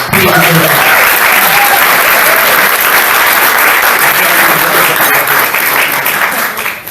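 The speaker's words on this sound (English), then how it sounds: "We owe him, we owe his company a huge round of applause for choosing Las Vegas." A large audience at a Rotary lunch meeting in Las Vegas bursts into loud, dense, continuous applause that fills the room and tapers slightly at the end.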